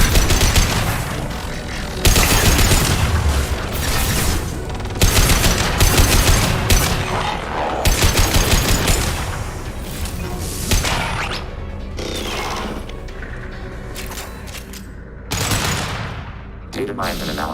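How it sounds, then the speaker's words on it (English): Bursts of rapid gunfire from the video game Mass Effect 2, loud clattering volleys broken by short pauses, with mechanical clicks and game voices in between. "I'm firing."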